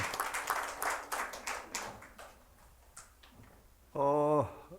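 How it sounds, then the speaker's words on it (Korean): Clapping from a church gathering welcoming a student at a semester-opening worship service, a few seconds of scattered applause that tapers off, followed by a brief burst of a tonal sound. "박수로 우리 뜨겁게 환영하겠습니다"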